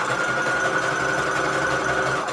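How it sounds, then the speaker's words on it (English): A sewing machine runs a steady zigzag stitch along the edge of paper scraps for holiday envelopes, a continuous buzzing whir held at even loudness throughout, close and alone. "we are ready to sew. So I need to do zigzag stitch on the edge here."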